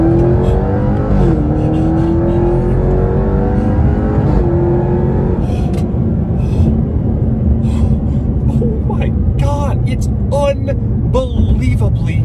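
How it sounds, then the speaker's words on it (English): A Jaguar XE SV Project 8 V8 sedan revs and launches hard, its pitch climbing through gears with a loud rumbling roar, while a person talks over it. "All right, I'm gonna launch it again here."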